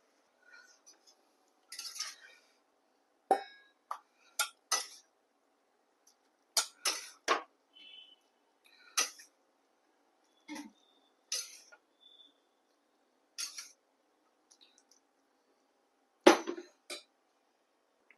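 Potato stuffing scooped from a pan onto a plate: scattered sharp metal spoon clinks and scrapes against pan and plate, irregular taps spread across quiet pauses, close and moderately loud.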